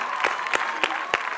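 Applause from a dance gala audience for the dancers, a dense patter of clapping with four sharp, evenly spaced louder claps standing out near the microphone.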